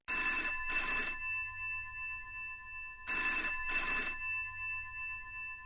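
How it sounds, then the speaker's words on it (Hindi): A telephone rings in two double bursts separated by a pause, bright and electronic, loud and close with nothing else heard. "फिर अचानक फोन बज उठा।"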